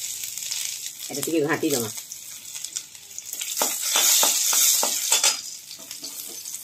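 Garlic goes into hot oil where mustard seeds have already crackled, giving bursts of close sizzling and spitting with scrapes of a spoon, while a person speaks briefly over it.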